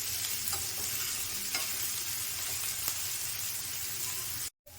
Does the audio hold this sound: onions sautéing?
yes